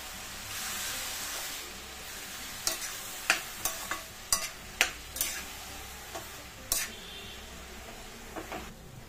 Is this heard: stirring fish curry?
yes